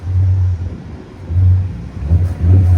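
A 2012 VW Passat 3.6 V6 with a muffler delete, its exhaust giving a deep low rumble that swells and eases in several short pulses, close by and fairly loud.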